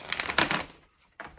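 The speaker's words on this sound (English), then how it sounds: "I should learn how to shuffle cards." Tarot cards being shuffled close by, a quick run of crisp papery riffling bursts over about half a second, then a pause and a shorter second flurry, with no talking.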